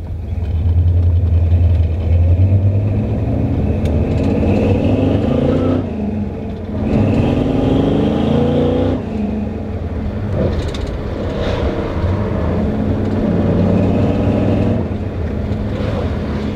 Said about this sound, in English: I really liked the engine note of this car, especially with the side exhaust.